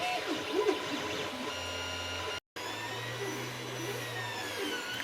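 A 3D printer printing a vacuum foot for a router, giving a steady mechanical whir with faint stepper-motor tones, continuous and fairly quiet for the whole stretch apart from a brief gap.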